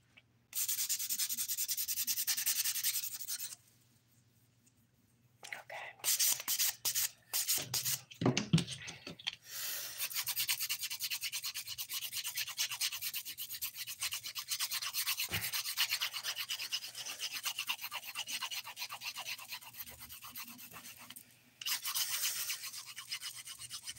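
Dip powder nails being filed and smoothed, a steady close rasping scrape that runs in long stretches, with a brief pause and a few short strokes before the filing resumes.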